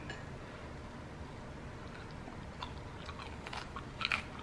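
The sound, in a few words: crunch of biting an air-fried Vietnamese spring roll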